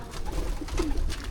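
Pigeons owned by a breeder cooing softly in their loft, a low murmuring coo rising and falling over steady background noise, no talk.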